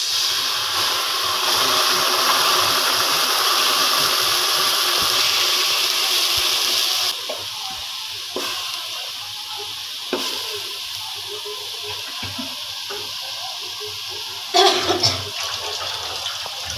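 Water poured into a hot wok while making kotkoti bursts into a loud, steady hiss for several seconds, then drops to a quieter bubbling simmer with occasional clatters.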